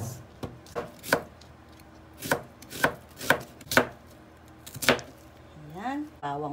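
Large onion being chopped on a board for Filipino paksiw na isda, about a dozen sharp knife strikes in an uneven rhythm, close and clear, with a brief voice near the end.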